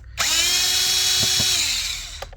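A power driver with a Torx T25 bit spins out a screw on a Mercedes GLE/GLS W166/X166 engine air filter housing, one steady whirring burst of about two seconds that winds down, close up.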